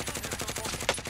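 Rapid automatic gunfire in a first-person shooter video game rattles out in a fast, steady stream of bursts, close and loud, with one sharper hit near the end and no talking.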